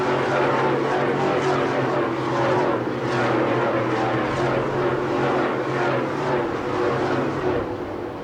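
Spec Truck 150 race trucks at Mesa Marin in 1999 thundering out of turn four, a continuous loud engine roar with a low droning hum and slow pulsing swells, no talk over it.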